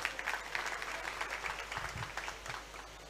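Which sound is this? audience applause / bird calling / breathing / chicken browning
audience applause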